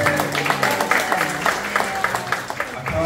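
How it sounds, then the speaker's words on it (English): Audience applause after a hospice concert performance at a care lodge, a steady wash of many hands clapping at close range for about three seconds with no voices over it. "Let's give them a round of applause."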